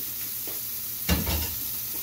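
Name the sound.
steak sizzling in hot pan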